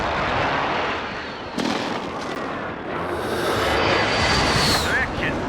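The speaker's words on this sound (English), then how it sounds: "It's an airstrike" Airstrike explosions in Call of Duty Modern Warfare boom and rumble in heavy, overlapping blasts, with a sudden sharp impact partway through and a long rolling roar, while voices talk over the battle.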